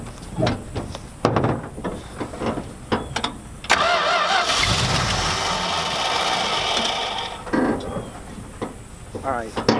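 Abandoned junkyard truck that sat for 13 years cranks over after scattered clicks and voices, then catches and roars into a loud, steady run before settling, with people talking nearby.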